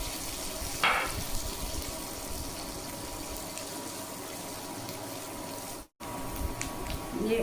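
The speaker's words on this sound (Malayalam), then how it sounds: "ബട്ടർ ഉരുകി വരുമ്പോൾ നമ്മൾ അതിലേക്ക് ഒരു ചെറിയ സവാള അരിഞ്ഞത് ആഡ്" Chopped onion sizzling in melted butter in a pan, a steady soft frying hiss throughout with a brief louder splash near the start and a short drop-out later.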